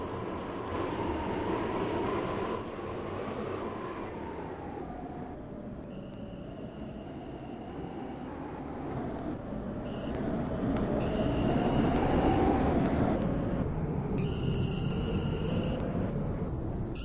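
A Class 730 electric train running into Connolly station with a steady rolling rumble and a falling drone, while a recorded on-board announcement chimes in at intervals over the noise.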